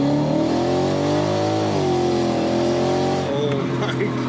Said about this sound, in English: I do want to go through just a quick little RPM to send this off